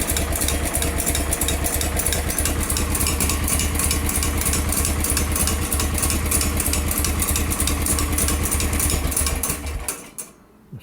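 A steady, loud tractor engine idles with a rhythmic mechanical chug close by, then cuts out abruptly near the end, leaving near silence.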